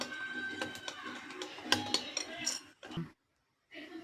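Batter with Eno stirred in a bowl for a cake: repeated clinks and scrapes of a utensil against the bowl, fairly close, stopping briefly near the end before resuming.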